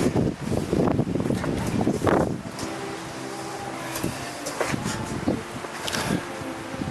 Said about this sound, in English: it's really windy outside today